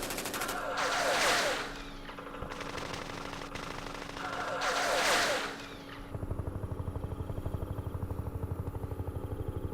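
Machine gun fire in a Vietnam War video game comes in two long rattling bursts, each swelling and fading, followed by a faster, steady clatter of rounds near the end.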